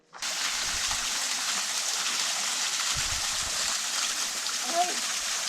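A waterfall along a hiking trail in Ecuador gives a steady, dense rush of falling water, close and constant throughout, with faint low rumbles beneath.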